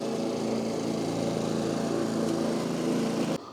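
A lawn mower runs steadily and close by while scalping a bumpy, lumpy lawn down low, its engine droning loudly without break and dropping off slightly right at the end.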